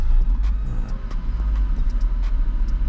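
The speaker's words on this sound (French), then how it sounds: "j'ai un ralenti là à 900 tours minute" A turbocharged BMW E36 idles at around 900 rpm, a deep, steady low throb close by, with faint light ticks and clicks scattered over the rumble.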